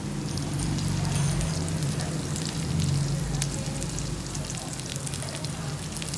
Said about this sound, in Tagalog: unahin natin yung bawang. So, medyo konting pa-brown lang.